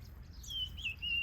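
Finches and other birds chirp in an outdoor aviary, several short high tweets and whistled calls scattered through the moment over a steady low rumble, fairly faint and at moderate distance, with no talking.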